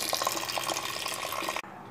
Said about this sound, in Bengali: এখন ধুয়ে নিচ্ছি গরম পানি দিয়ে